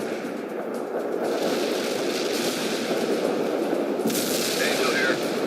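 Dense battle noise from the strategy game World in Conflict, continuous rumbling artillery and gunfire as heavy fire support hits, with a sharper burst near the end and no talking.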